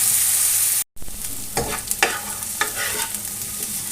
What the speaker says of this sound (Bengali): হাই ফ্লেমে রেখে হালকা ভেজে নেব, লবণ হলুদ ছাড়াই।